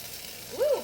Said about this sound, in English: Ooh, that little fizzle. A little sizzle, sizzle.